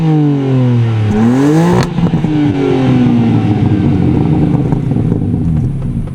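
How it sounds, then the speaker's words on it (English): A BMW M4 Competition's loud, aggressive exhaust note revs up repeatedly, rising and falling in pitch with crackles between blips, close by and filling the whole clip. "these exhaust tips that sound very aggressive."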